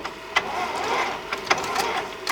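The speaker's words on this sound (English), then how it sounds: "push them into the printer. The printer has found it" Epson C6500 ColorWorks label printer feeding labels after loading, a steady mechanical whir with a few soft clicks and thumps, close and moderately quiet with no talking.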